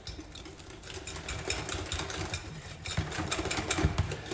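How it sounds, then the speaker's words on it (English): Pancake batter for chocolate-filled American pancakes is whisked in a bowl, a quick, uneven run of rhythmic scraping ticks that grows slightly louder, close by and with no voices. "Give a decent whisk, get any lumps out."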